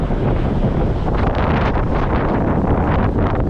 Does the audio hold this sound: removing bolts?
no